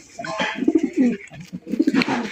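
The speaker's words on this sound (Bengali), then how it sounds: "এটা হচ্ছে আপনার রাজশাহী হাই ফ্লাইং গিরিবাজ কবুতর।" Rajshahi high-flying Giribaz pigeons coo nearby in soft, throaty, rolling bursts, overlapping in a steady murmur.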